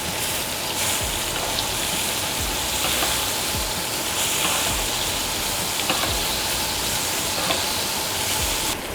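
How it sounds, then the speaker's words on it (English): Steak sizzles steadily in a hot pan as butter is spooned over it, a dense continuous hiss and crackle with faint spoon taps, close and loud, with no talking. "Go in with our butter here. Grab our spoon, tilt the pan. Go over the steak like so."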